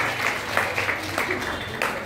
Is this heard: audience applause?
yes